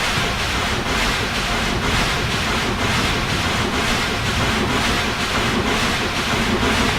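A British Rail locomotive in the Railworks train simulator game runs with a steady, loud roaring rumble and a faint rhythmic pulsing, continuous and close throughout with no talking.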